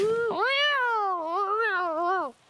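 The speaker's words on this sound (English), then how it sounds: "that's a cat" A single drawn-out cat meow with a rising then wavering pitch, loud and close, ending abruptly.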